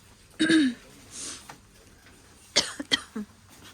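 A person coughs indoors at home during cold weather: one harsh cough, then a short cluster of two or three more coughs a couple of seconds later, fairly close and alone against a quiet background.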